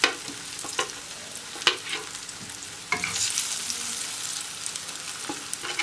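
Pre-boiled arrowroot pieces frying in hot oil, a steady close sizzle with occasional sharp crackles and spatters, no voices.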